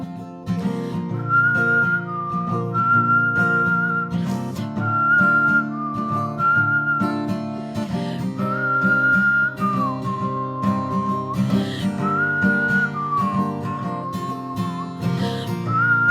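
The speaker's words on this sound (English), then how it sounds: "Sometimes they hear her whistling." Someone whistles a slow, wavering melody, clear and close, phrase after phrase with short pauses, over a soft sustained musical backing.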